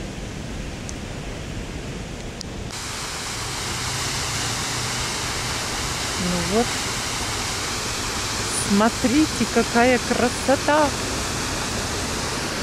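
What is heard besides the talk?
illuminated waterfalls at night in Antalya, Turkey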